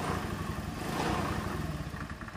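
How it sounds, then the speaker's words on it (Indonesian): Honda Beat carburetor motor scooter engine runs steadily nearby, a loud continuous mid-pitched putter with a slight rattly clatter and no talking. "Nah ini ya, motor bisa kita hidupkan dengan menggunakan aki yang masih normal."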